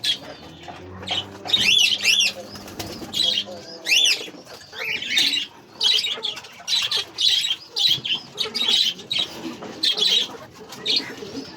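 Pigeons feeding in their loft squawk and coo close by, with bursts of wing flapping and scuffling in an irregular, busy rhythm throughout.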